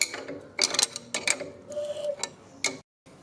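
Metal coilover collar on a BMW E24 shock being wound down by hand, giving a run of close, uneven ratcheting clicks and scraping turns in short bursts with brief pauses, ending in silence.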